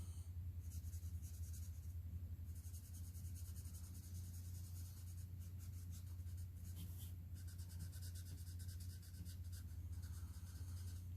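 Close, quiet scratching of a marker or pencil coloring in paper card pieces by hand, in quick continuous strokes with short pauses over a low steady hum.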